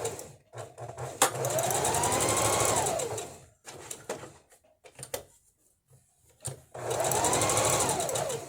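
A home sewing machine stitches practice shapes in bursts, with two long whirring runs and short stop-start stitches between them as the fabric is pivoted at corners, close and clear with no talking.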